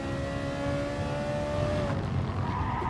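A car in the Gran Turismo Sport racing game slides through a corner. A sustained engine whine holds steady, then drops in pitch as the tires skid beneath a broad noisy rumble.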